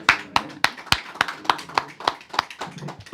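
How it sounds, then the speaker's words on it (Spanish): Clapping welcoming a guest speaker at a talk on earthquakes, heard as about a dozen distinct, evenly spaced claps in a steady rhythm, fairly close and crisp rather than a full crowd roar. "vamos a recibir con un fuerte aplauso a nuestro charlista de hoy, el señor Oliver Roosevelt"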